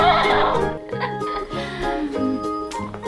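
A horse neighs in a few short whinnying bursts over a steady, rhythmic musical backing, fairly loud and close, with no speech.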